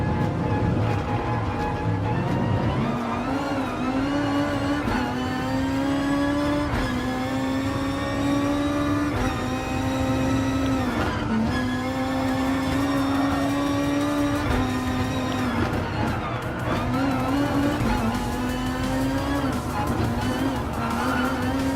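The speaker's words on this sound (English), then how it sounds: "let's just go and overtake the prototype race car" A prototype race car in Gran Turismo Sport drones with a continuous engine note that climbs and falls through repeated gear shifts and revs, loud and steady throughout.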